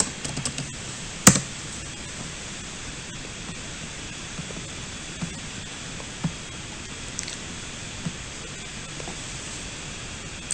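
Soft clicky keystrokes on a computer keyboard entering commands while installing and configuring a DNS server on Debian Linux 8.6, scattered irregular taps with one sharper key hit, over a steady hiss.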